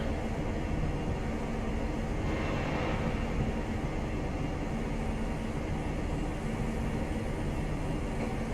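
Class 43 HST diesel train running from Newcastle to York on the East Coast main line in Train Simulator Classic; a steady, loud engine drone and rail rumble with constant wheel noise throughout, no pauses.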